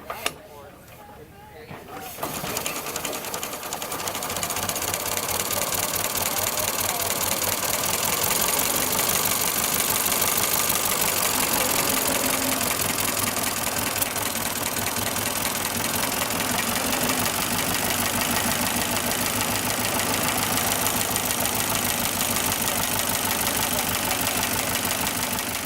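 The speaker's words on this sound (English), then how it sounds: "I'm going to turn on the ignition and give it a mighty crank, and if we're lucky, it'll start right up" A classic car engine turns over after a brief crank, catches, and settles into a loud, steady, rumbling idle with a constant throb that lasts for over twenty seconds.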